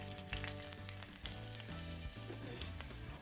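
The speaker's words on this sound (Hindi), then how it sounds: "तेल अभी गर्म हो चुका है, तो इसमें हम लोग डालेंगे मेथी के दाने।" Fenugreek seeds sizzle in hot oil in a kadhai, producing a dense, close crackling hiss with scattered sharp pops running steadily throughout.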